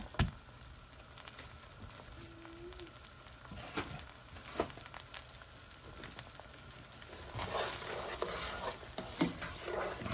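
Red onions sautéing in butter in a pan give a faint, steady crackling sizzle with occasional stirring clatters, fuller near the end, close but quiet, no speech.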